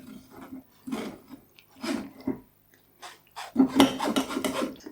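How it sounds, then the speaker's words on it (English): Plum sauce for Peking duck is pressed and scraped through a fine sieve, giving close, rasping scrapes in irregular strokes with short pauses, growing busier and louder toward the end. "I'm going to press it through this fine sieve"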